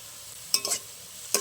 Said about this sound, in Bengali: এবার আরও ভালো করে সব একসাথে ভেজে নেব